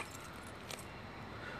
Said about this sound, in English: here's some of my other keys